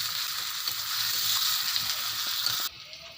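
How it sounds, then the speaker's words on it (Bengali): Onions and green chillies fry in hot oil in a wok, giving a steady, close crackle and sizzle with faint clinks. The sizzle drops off sharply near the end. "প্রথমে কড়াইতে তেল দিয়েছিলাম, তেল গরম হতেই পেঁয়াজ দিলাম আর 4টে কাঁচা লঙ্কা দিলাম।"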